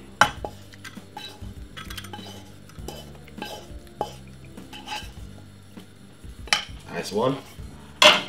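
Eggs beaten in a bowl for a Jamaican-style cheese omelette, with irregular clinks and scrapes of utensil against dish, fairly quiet and close, and a brief spoken word near the start.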